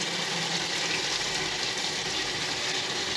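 Water runs steadily from an RV sink faucet, a constant broadband hiss holding at even level throughout with no voices.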